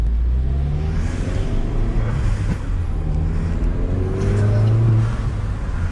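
A modified Mini accelerating hard, its engine rumbling loud and close with a rising revving tone and a whooshing turbo blow-off dump under steady road noise, no talk.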